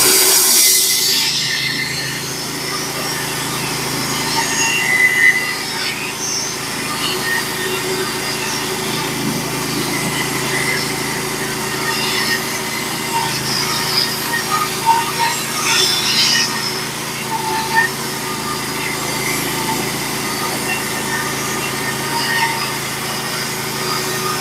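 Norwood HD36v2 band sawmill cutting 1x14 roof planks, a loud, steady mechanical whine of blade and engine running continuously for the whole stretch.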